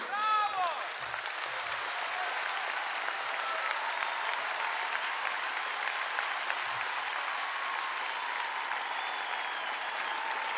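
Loud, sustained applause from a large concert audience at a jubilee concert, a dense, even roar of clapping holding for several seconds without voices.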